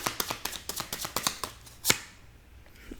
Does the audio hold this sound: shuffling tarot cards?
yes